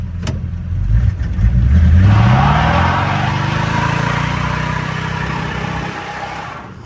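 A 1973 Chevrolet El Camino engine revs hard and holds high as the driver tries to spin a tire, a loud close roar that climbs in pitch and then drones steadily at high revs.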